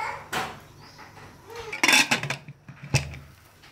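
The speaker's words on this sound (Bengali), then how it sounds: "এখন প্রেশার কুকারের ঢাকনা দিয়ে চারপাশটা শিষ দিয়ে নিতে হবে।" A pressure cooker lid set in place and fitted shut in a home kitchen, giving a few close metallic clanks and scrapes, with no talk.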